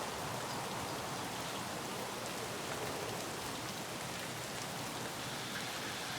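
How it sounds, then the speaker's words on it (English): Steady rain in the video game Escape from Tarkov hisses continuously, a dense even wash of drops with no breaks, fairly soft and enveloping throughout. "rain has started, and you can kind of hear it in the background."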